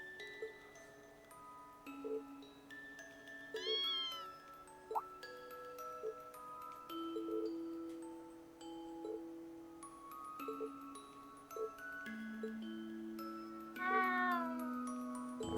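A kitten meows in the video game The Legend of Heroes: Trails of Cold Steel, giving a couple of short, faint mewing calls over a soft tonal music background with light ticking notes.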